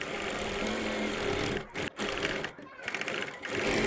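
A sewing machine stitching an invisible zip onto a kurti, running in fast continuous bursts with a few short pauses, fairly quiet and close.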